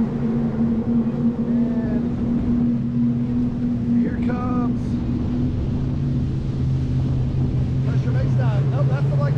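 A 52-foot MTI Black Diamond speedboat races past with a loud, sustained droning roar that holds steady throughout, while people talk and shout excitedly over it.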